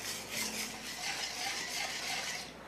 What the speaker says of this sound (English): Stirring is very important, so you have to allow the sugar to dissolve completely before going on to our next step